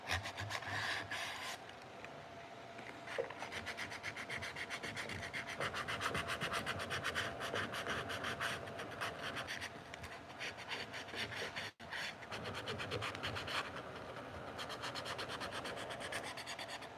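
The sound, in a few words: sandpaper scuffing an epoxy edge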